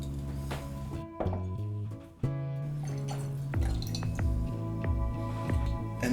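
Cointreau trickles into a metal jigger for a 30 ml measure, a close, clear run of drips and liquid gurgles with short pauses between pours, no speech.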